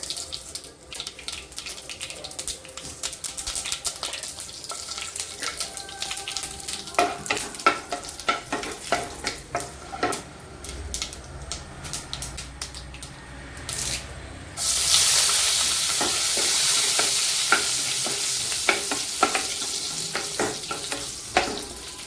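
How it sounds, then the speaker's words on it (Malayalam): Mustard seeds hitting hot oil for tempering, with stirring and clinks first, then a sudden loud, steady sizzle close by that lasts to the end, with no talk. "ഇനി വറതാളിച്ചിട്ട് ആദ്യം എണ്ണ ഒഴിച്ച് കടുകിട്ട്"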